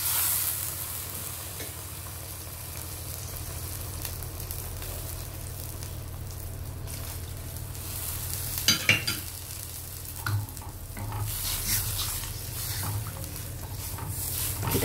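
A spoon stirs Spanish mackerel fish curry in a pot after water is added, giving a steady bubbling simmer and sizzle close by with a few brief louder scrapes and clinks.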